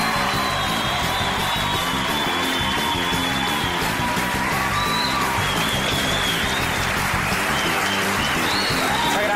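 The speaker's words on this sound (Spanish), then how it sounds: "¡El aplauso fuerte!" A studio audience on a Spanish-language comedy show gives strong, continuous applause lasting about nine seconds, dense and loud, with a few whoops and cheers mixed in.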